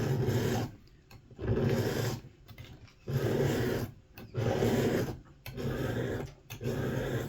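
Steel file strokes across the single bevel of a Tusker Concord broadhead, working the edge to raise a burr; four long, loud rasping passes, each about a second, separated by short pauses, close up with no talking.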